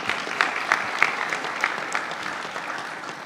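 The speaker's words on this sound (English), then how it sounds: "You can give Adina Combo a clap." An audience claps at a university matriculation ceremony at UWI Cave Hill Campus in Barbados, a sustained round of applause from a seated crowd with scattered louder claps that gradually tapers off.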